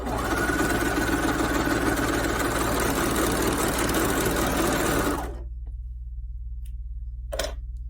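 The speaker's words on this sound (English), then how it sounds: "And then I'm just going to sew it along." A sewing machine stitching binding onto fabric: a loud, continuous rapid whirring hum for about five seconds, then it stops, leaving low background noise and a brief click.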